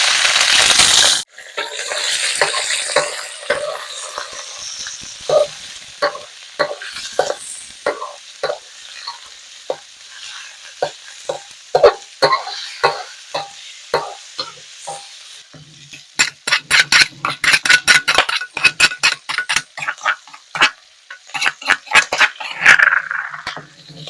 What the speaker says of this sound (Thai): เอาหมูลงผัดครับ